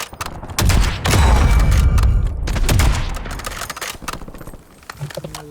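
Gunfire in the video game Warzone: bursts of shots with booming impacts, loud and dense in the first three seconds, then sparser scattered shots under voices talking.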